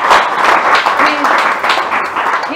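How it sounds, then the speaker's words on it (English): A small audience claps for a couple of seconds, the applause loose and uneven, with a voice briefly heard over it. "Let's give Matthew Renze a round of applause"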